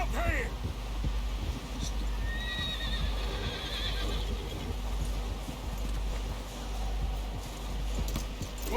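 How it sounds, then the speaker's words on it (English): In Red Dead Redemption 2, a horse whinnies and snorts while its hooves clop on the ground, and several people shout and talk over the animal throughout. "Someone help John down off this horse."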